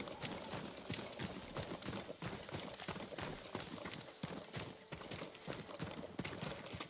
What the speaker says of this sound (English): A farm horse.